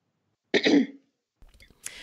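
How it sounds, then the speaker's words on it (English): A single sharp cough, close and fairly loud, followed after a pause by faint throat noises and a quieter breathy sound. "I'm going to cough."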